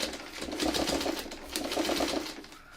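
A sewing machine turned slowly by hand cranking gives two clusters of soft rhythmic needle ticks and mechanical clicks, heard close up.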